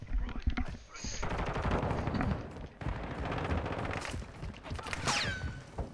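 Rapid gunfire, shotgun blasts included, in the Modern Warfare 2 video game, with bursts of automatic shots and single cracks running dense and loud throughout, under a player's talk.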